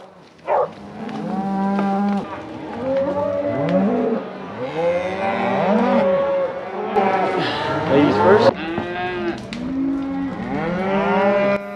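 Cattle moo again and again, loud and close, during a cattle drive up a hill toward roadside meadows, their calls overlapping as people talk briefly.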